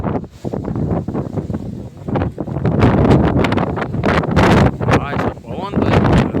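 Strong gusts buffet the microphone on Girnar mountain, surging and roaring in loud waves, while voices talk intermittently through the blustery rush.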